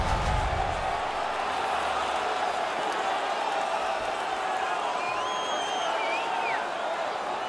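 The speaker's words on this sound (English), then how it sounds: "The home crowd is ecstatic." A home ice hockey crowd cheers in a dense, sustained roar with scattered whoops and whistles rising above it, steady and full throughout.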